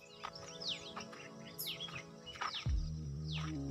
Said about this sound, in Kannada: ಹಕ್ಕಿಗಳ ಸದ್ದು